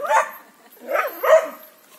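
A dog on a rural homestead gives three short, sharp barks, one early and two close together later, loud and near, with no talking.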